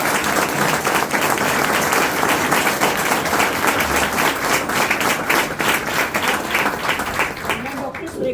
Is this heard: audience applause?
yes